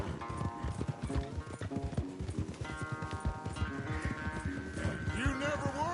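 Rapid hoofbeats of a galloping horse in the video game Red Dead Redemption 2 pound steadily throughout, with background music tones layered over the rhythm.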